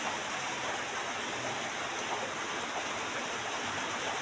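Heavy rain pours down steadily and densely, a constant close hiss of water with no breaks and no voices.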